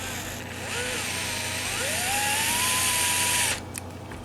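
An electric drill or driver turns a Phillips head screw into a pickup on a Gibson SG guitar, a steady whirring buzz that rises in pitch and holds for about three seconds before cutting off, close and loud.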